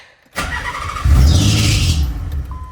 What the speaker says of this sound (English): I don't know if you guys heard how fast that engine cranked.